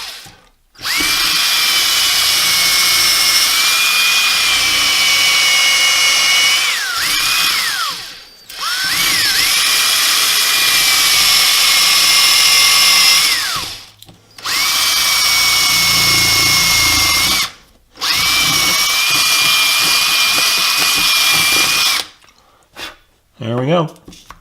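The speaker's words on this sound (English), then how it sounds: "we'll just move the drill bit back and forth, and eventually they will be connected" An electric drill is worked back and forth to cut a slot while installing model railway track and turnouts. Its high whining motor runs in four long bursts, dipping in pitch between them, with short pauses and a final brief whir.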